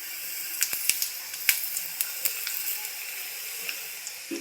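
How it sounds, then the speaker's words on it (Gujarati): Hot oil with asafoetida is poured over spices for a fenugreek and chilli pickle, giving a soft steady sizzle and hiss punctuated by scattered crackles and pops, fairly close and without talk. "આપણે તેલ બોળામાં નાખી દઈશું."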